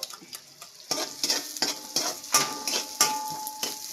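White onion and bird's eye chili sizzle in a hot pan while a utensil stirs them, giving scraping, clinking strokes every half second or so over a steady close frying hiss, with no voices.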